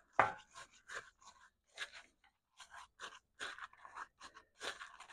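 Frozen hash browns stirred and scraped with a spatula on a griddle, a run of quick close scraping and crunchy strokes in an irregular rhythm, with no talk.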